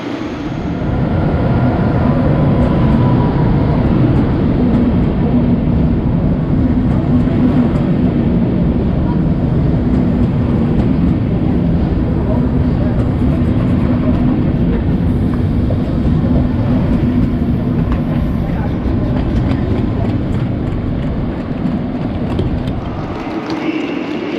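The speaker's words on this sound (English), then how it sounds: "that was a night jet service" An ÖBB Nightjet night train rolls through a station in Hamburg with a loud, sustained, rumbling roar of wheels and cars that holds steady and close for the whole stretch before easing off at the end.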